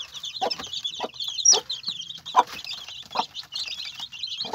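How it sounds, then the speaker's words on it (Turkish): An ispenç chicken flaps its wings and clucks inside a cage, with several close, repeated clucks and bursts of flapping over a few seconds. "Maşallah ispencimiz şimdiden kanat salmış."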